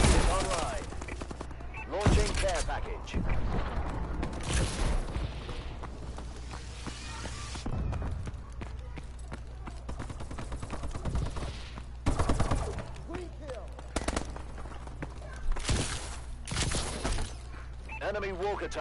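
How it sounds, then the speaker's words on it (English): Shotgun blasts in Call of Duty: Advanced Warfare, several loud, sharp booms spaced a few seconds apart amid battle noise, with someone talking in between. "Let's try the shotgun out."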